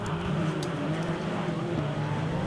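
Speedway race cars roar around a track under the cushion of a night meeting, a steady, loud engine drone with a rising and falling pitch as they pass, carrying on without pause.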